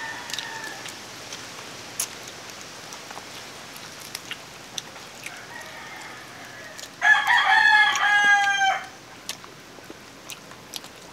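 A rooster crows once, a loud, clear two-second call rising out of a quiet outdoor background with faint rain-like hiss and scattered small ticks, and no voices.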